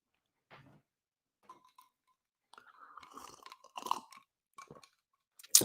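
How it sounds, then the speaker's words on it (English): Close-miked chewing and crunching of ice from a drink, a few soft bites building to a burst of crunchy, clinking sounds, with a loud sharp crackle at the very end; no talking. "Sorry for that loud slurp. I got ice."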